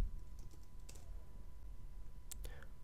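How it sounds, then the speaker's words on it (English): Keys are typed on a computer keyboard while a password is entered during Outlook 2013 email account setup. A few sparse, quiet clicks sit over a low steady background hum. "type in the password you selected when you created the account on our servers"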